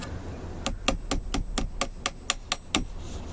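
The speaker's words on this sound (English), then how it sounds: "I pound in the next nail." Hammer pounding a nail into a tube for a craft project: about a dozen sharp, evenly spaced strikes in a steady rhythm, close and fairly loud, with no talking.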